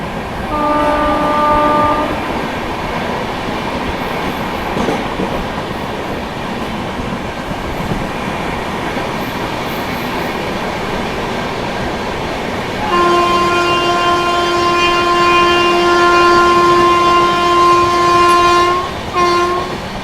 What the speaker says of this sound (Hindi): अभी अपनी पुरुषोत्तम एक्सप्रेस स्किप करने वाली है आनंद विहार टर्मिनल को, और इसके बाद गाजियाबाद जंक्शन को भी।